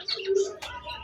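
Pigeons coo briefly at a bird shop, a short soft burst of low cooing with a faint chirp, close by, with no talking.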